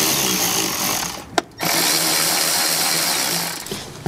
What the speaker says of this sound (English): So now I'm going to use the same 8mm to loosen these hose clamps.